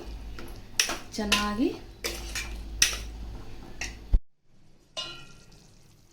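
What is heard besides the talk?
stirring chopped tomato into brinjal masala gravy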